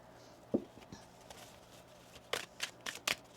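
Tarot cards are shuffled in soft, quiet riffles and taps: a single light snap early, then a cluster of three or four crisper card slaps near the end, close by in a quiet room.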